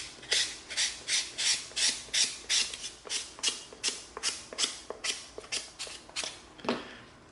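EVA foam being sanded with 320 grit sandpaper, a steady run of about fifteen rhythmic rasping strokes, close and fairly loud, with no talking.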